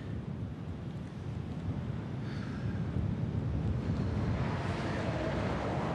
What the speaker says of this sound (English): This headwind is just slowly beating me down.